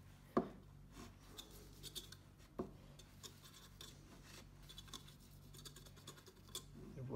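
A brush works thick rust treatment into a rusty window rail on a Lancia Delta, making quiet scratchy scrubbing strokes punctuated by a couple of sharper knocks.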